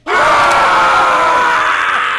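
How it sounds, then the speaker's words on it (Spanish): Kids screaming in the video game Happy Wheels, a single loud, sustained wailing scream that holds steady for about two seconds with no talk over it. "Me tienen los gritos de estos, de estos chavales de aquí hasta los cojones"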